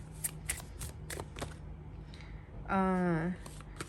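Tarot cards being shuffled and drawn in a card-reading session, a few soft flicks and riffles near the mic, followed by a brief sung or drawn-out vocal tone at the end.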